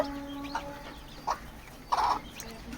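Hens clucking beside brooding chicks in a poultry shed, a few short, separate clucks at close range with quiet pauses between them and no voices.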